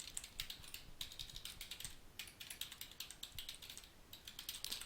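Quick, light clicks of a computer keyboard as a web address is entered, an irregular patter of keystrokes in bursts with short pauses, close and fairly quiet with no talking.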